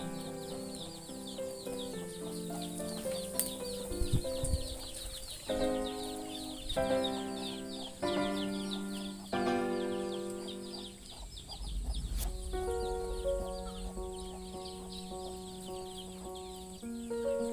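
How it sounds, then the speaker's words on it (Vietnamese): A hen clucks in a farmyard at a camp in the countryside, with repeated short calls at close range and a steady background of other bird and animal noise, with no talking. "Đây con gà mái."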